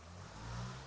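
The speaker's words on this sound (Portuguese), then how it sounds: "desculpe o barulho de moto" A motorcycle engine droning briefly outside, a low steady rumble that is faint and distant, lasting under a second.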